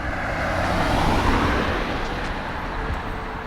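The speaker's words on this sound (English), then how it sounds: "Wait for that car." A car passes on a nearby road, its broad engine and tire rush swelling early and slowly fading, heard alone with no voices.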